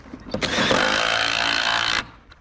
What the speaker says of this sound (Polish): wiertłem do drewna z udarem wierci. O wiele szybciej się wierci, lepiej się wierci. I tak wiercimy.